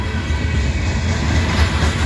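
Freight cars rumble past in Abbeville, a loud, close, continuous rolling roar with a low, even drone and no pauses.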